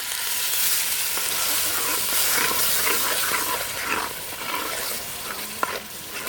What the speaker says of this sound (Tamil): இதையும் சேர்த்து எண்ணெயிலே வதக்கிக்கலாம்